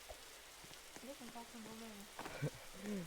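Steady light rain in a Roblox video game hisses throughout while a voice speaks briefly over it.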